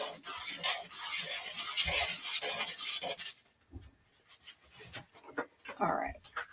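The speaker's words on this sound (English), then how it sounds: "I think I'm about done sanding." Metal being sanded by hand in a metals studio: a close, steady rasping scrape of firm strokes for about three seconds, then quieter, scattered scuffs and clicks.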